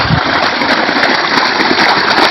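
Irrigation water flowing over a six-acre onion field, a steady broadband rushing gush with a faint low pump-like hum beneath, continuous and fairly loud throughout.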